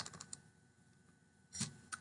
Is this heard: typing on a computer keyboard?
yes